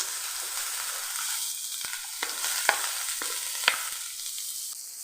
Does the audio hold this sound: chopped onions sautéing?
yes